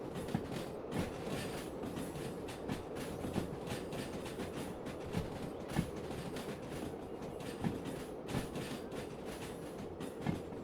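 A train rolls along the rails in the Derail Valley simulator game, with a steady low rumble and regular clickety-clack wheel beats repeating every second or so, heard alone without speech.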